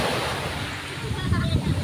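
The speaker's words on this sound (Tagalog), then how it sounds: "Ah, grabe yung dagat," Ocean surf rolls and hisses continuously onto a white sand beach at Bitoon, Anda, close and fairly loud, with wind buffeting the microphone.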